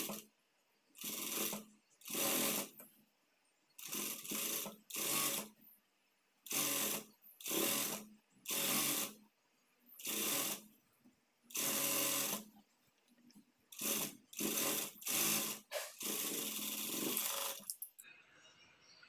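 A sewing machine runs a long stitch on blouse cloth in repeated short bursts, each a loud rapid mechanical whir of about a second, separated by brief pauses, with a longer continuous run near the end.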